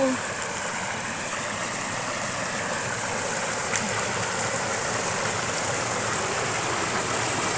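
Carpathian mountain stream flowing, a steady broadband rush of water that stays close and even throughout with no break.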